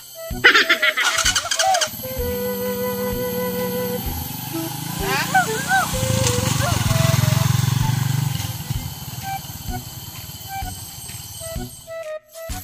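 Motorcycle engines running and revving nearby on a rural road, a steady droning rumble that swells in the middle and fades out, with people talking over it and a few bird-like calls.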